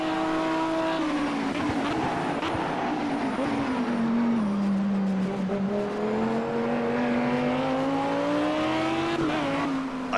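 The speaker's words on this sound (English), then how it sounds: "When you decelerate and shift down the gears, it kind of, as you heard, the engine just kind of howls away." An Audi R8 LMS Ultra race car in the video game Project Cars at the Nürburgring GP circuit, its engine howling loudly and continuously as the revs rise and fall through gear changes, with a brief tire squeal.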